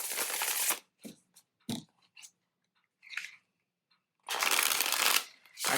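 A Victorian Tarot deck is shuffled in two loud, close riffling bursts at the start and near the end, with softer card taps and handling sounds between.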